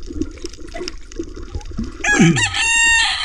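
Chickens cluck and squawk in a sudden flurry of commotion, loud and close, with a rooster-like crowing burst and lower scuffling noise.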